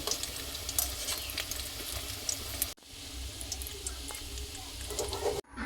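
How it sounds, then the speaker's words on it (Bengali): Egg lollipops fry in hot oil until golden brown, a steady close sizzle with occasional stirring, broken by two abrupt cuts. "এগুলো আমি গোল্ডেন ব্রাউন করে ভেজে নেব।"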